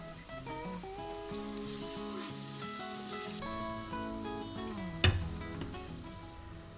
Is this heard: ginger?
yes